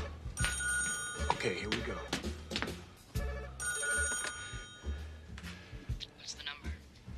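An old telephone bell rings in repeated bursts with short pauses between them, close and clear, while people talk over and between the rings.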